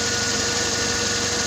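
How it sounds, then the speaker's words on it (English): Engine of a 2012 Scion xD idling after an automatic transmission oil change, a steady close, loud low rumble with an even pulsing beat and no voices. "So run the engine for about 10 minutes."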